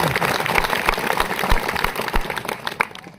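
Audience applause at an outdoor stage event welcoming an elder, a dense, steady wash of clapping hands with uneven bursts that thins out toward the end.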